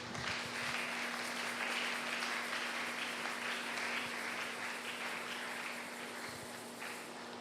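A church congregation applauds in sustained, dense clapping that holds steady for several seconds, then gradually thins and fades slightly toward the end, moderately distant within a hall.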